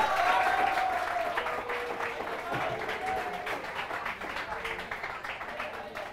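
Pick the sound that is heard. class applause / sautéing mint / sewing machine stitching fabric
class applause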